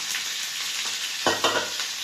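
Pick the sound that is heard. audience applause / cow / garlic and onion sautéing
garlic and onion sautéing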